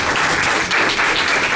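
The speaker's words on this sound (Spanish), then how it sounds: "Vamos a darle otro fuerte aplauso" An audience applauds at a public defender's office talk, a dense, steady burst of clapping that stays loud and continuous throughout.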